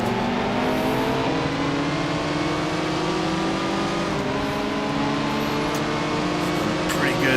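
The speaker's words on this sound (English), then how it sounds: "you can hear the engine on the Van Wall there. Pretty impressive sound." A 1955 Vanwall racing car engine in the video game Grand Prix Legends drones steadily at high revs, loud and continuous, with a slight pitch shift as it works through the gears.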